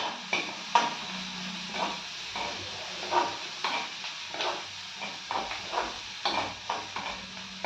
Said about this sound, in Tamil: இப்போ பச்சை மிளகா போட்டாச்சு. நல்லா இது போட்டு வதக்கிக்கணும்.